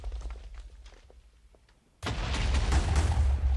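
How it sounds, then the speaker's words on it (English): An explosion in the Minecraft video game bursts suddenly after a quiet stretch of soft footstep-like taps, then a loud sustained blast rumble fills the rest. "How's the range on the explosion again?"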